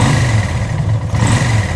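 A Honda VL250 bobber motorcycle fitted with 48mm pod filters, its engine revving loud and close with a steady throbbing drone, dipping briefly before picking straight back up on the throttle.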